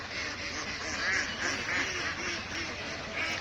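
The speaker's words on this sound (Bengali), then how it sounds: "এখানে তার 1000 হাঁস আছে।" A dense flock of roughly a thousand farm ducks quacks continuously in overlapping, rhythmic bursts, filling the space at moderate volume with no clear pauses.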